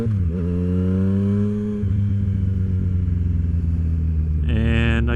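A Yamaha FJ-09 fitted with a Black Widow exhaust rumbles up close, its engine note falling, steadying into a throaty idle, then rising sharply in a louder rev at the end.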